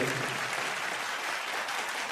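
Applause for a music industry legend at a singing performance event: a crowd claps in a dense, even wash, moderately distant and fairly quiet, holding steady throughout.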